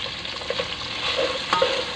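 Garlic and ginger frying in a pan, a steady soft sizzle with light stirring scrapes and small pops, close by and alone.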